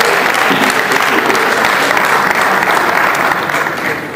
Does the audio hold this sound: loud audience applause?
yes